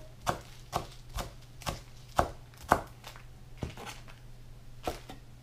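A knife chops broccoli rabe leaves on a cutting board in about ten crisp, separate strikes at an uneven, unhurried pace, close and clear over a quiet background.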